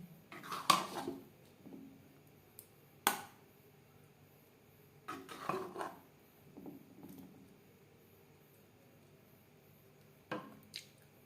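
Chandan kath pitha is moved onto a ghee-brushed metal plate, giving scattered soft clinks, taps and scrapes of utensil against plate at close range with quiet pauses between them.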